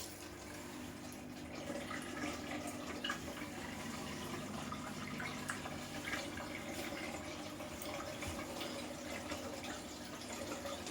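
A Candy washer-dryer on its spin cycle running quietly, with a continuous low rush of water draining away and a faint steady mechanical hum beneath it.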